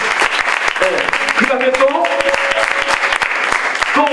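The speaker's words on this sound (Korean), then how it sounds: "박수 치세요." A church congregation applauds in Honduras, a dense burst of clapping from many hands that carries on steadily under a speaking voice, with brief tones from instruments in the background.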